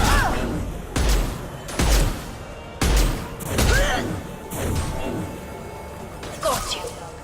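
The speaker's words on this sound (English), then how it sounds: "Firing a high impact shot." Sniper shots in Mass Effect 2, firing high impact rounds: several sharp, heavy blasts with booming low tails and whooshing echoes, spaced about a second apart amid battle noise.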